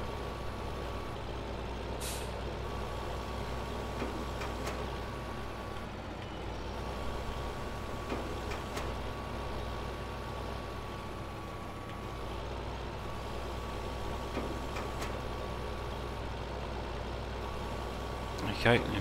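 A truck hauling a trailer in Farming Simulator 15 drones steadily at low volume throughout, with a faint recurring beep tone and occasional clicks over the engine rumble.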